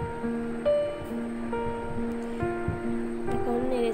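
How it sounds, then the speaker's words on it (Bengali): Chopped onion and five or six sliced green chillies fry in oil in a pan while being stirred, giving a steady close sizzle and hiss under soft background music tones. "এখন নেড়ে ছেড়ে ভালো করে পেঁয়াজ আর কাঁচামরিচ ভেজে নিচ্ছি"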